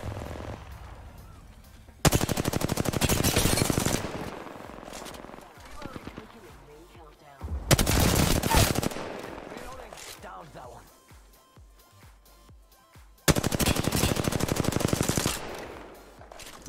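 Apex Legends gunfire comes in three loud, dense automatic bursts of a couple of seconds each, separated by quieter stretches of softer game noise and some talk.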